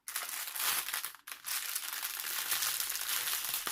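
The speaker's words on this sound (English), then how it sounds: "Sorry for the crinkling wrinkling." A wrapper is handled up close, giving continuous loud crinkling and crumpling with a brief pause about a third of the way through. No one speaks.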